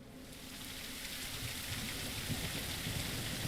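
Light rain weather in a UE5 Royal Navy naval game: a soft, even hiss of rainfall with a low rumbling bed underneath, steady throughout with no voices.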